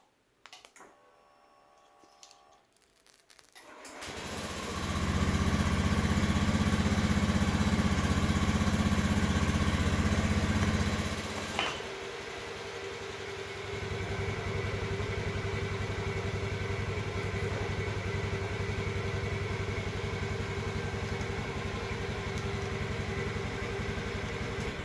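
A Honda Beat scooter engine starts up loudly after a few faint clicks, runs strongly for several seconds, then settles into a steady, quieter idle that continues to the end.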